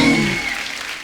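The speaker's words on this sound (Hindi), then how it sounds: "जोरदार ताली हो जाए।" Studio audience on a TV comedy show claps loudly, a brief dense burst of applause fading out within a second.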